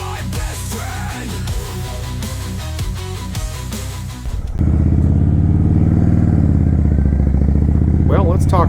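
A 2014 Harley-Davidson Softail Slim motorcycle with 11,000 miles on it rides past, its engine loud and steady: uneven clattering at first, then a sustained, heavy low rumble as it cruises.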